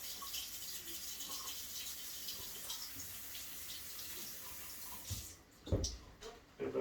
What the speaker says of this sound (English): Same thing, rinse them off.